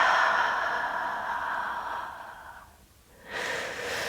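Deep breathing during a yoga session, a long steady exhale followed by a short pause and a fresh inhale, close and clear without talk.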